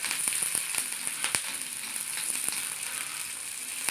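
Green chillies and garlic fry in a pan for rustic cabbage bhaji, a steady close sizzle with scattered crackles and light taps of a spoon.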